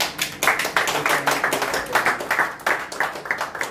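A church congregation applauding, close rhythmic clapping in uneven bursts that pulse steadily throughout, loud and without speech over it.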